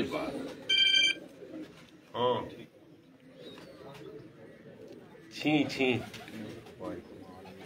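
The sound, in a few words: Teddy breed pigeon cooing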